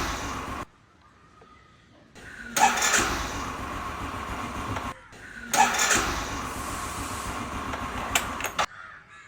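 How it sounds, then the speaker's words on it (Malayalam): A motor scooter that will not self-start cranks in two separate bursts of engine noise, each lasting a few seconds with quiet gaps between the attempts. "സ്റ്റാർട്ട് ആവണില്ലല്ലോ സെൽഫ് എടുക്കൂല"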